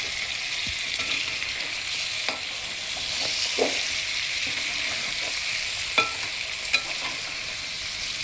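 A spoon stirs tamarind leaf mutton curry in a pan over steady frying sizzle, with intermittent scraping and clinking strokes against the pan and no talking.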